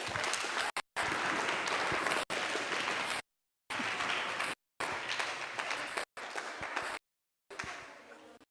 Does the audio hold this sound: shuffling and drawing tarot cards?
no